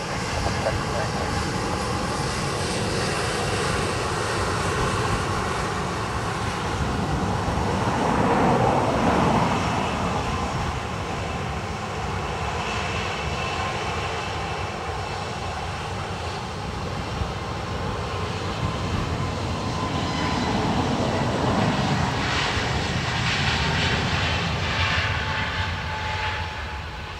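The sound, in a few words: Pegasus airliner taking off from Dublin Airport runway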